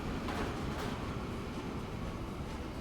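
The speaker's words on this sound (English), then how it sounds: "Yeah, that's a long train, that one." A long freight train hauling crude oil in the Transport Fever 2 game, heard as a faint, steady low rumble that rolls on without pause.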